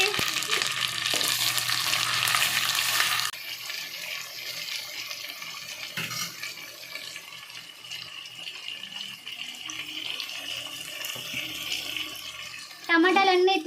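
A spoonful of ginger paste hits hot oil in a home kitchen pan, giving a loud, crackling splatter for about three seconds before settling into a softer, steady sizzle with faint stirring and clinks.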